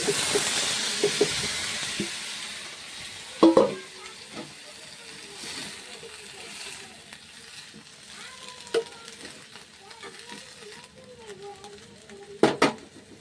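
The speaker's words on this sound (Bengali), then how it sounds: "দেখতে পাচ্ছে চানা আলু প্রায় ফ্রাই হয়ে গেছে" Chickpeas and potatoes fry in a pan with salt, turmeric, chili, cumin and coriander powders, giving a soft, steady sizzle broken by a few sharp clanks of stirring.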